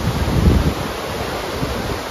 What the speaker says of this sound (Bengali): ঝর্ণা